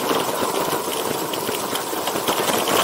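An electric skateboard built into an icebox cooler, riding on 6-inch rubber wheels, runs across sand, its motor whirring steadily with gritty, rattling rolling noise and no pauses.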